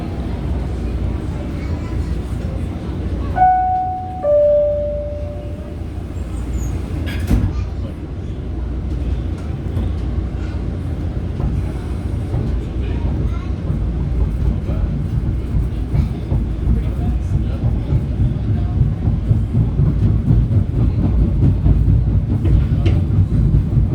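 A PATH train bound for Newark Penn Station rumbles steadily along the track, its low continuous roar building slightly over time, with a brief two-tone chime early on as it gets under way.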